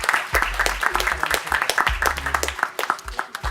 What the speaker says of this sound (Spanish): Un aplauso, por favor, para...